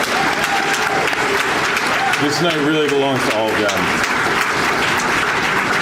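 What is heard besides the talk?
audience applause for scholarship winners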